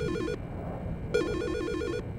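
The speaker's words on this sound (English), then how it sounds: "Sir? You gonna answer your phone?" Telephone in Silent Hill Shattered Memories ringing with a trilling electronic bell, two rings separated by a short pause, loud and close with no voices.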